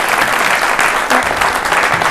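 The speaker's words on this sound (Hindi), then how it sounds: "मैं आपका बहुत स्वागत करता हूं इन जोरदार तालियों के साथ" Loud, enthusiastic applause from an audience welcoming a National Youth Day episode honoring Swami Vivekananda, close and full clapping that stays strong throughout, with a brief dip near the middle before resuming.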